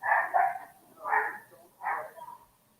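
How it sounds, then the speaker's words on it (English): A neighbour's small dog barks three times in quick succession, fairly clear and moderately loud, with short high-pitched yaps heard from a short distance. "It sounded like a small dog."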